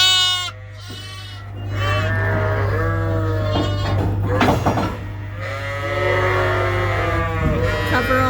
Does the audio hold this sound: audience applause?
no